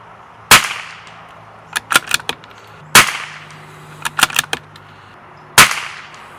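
Three sharp rifle shots from a CZ457 VPT firing Eley rimfire ammunition crack out at a steady interval, each followed by a cluster of quieter clicks and knocks from the bolt being worked.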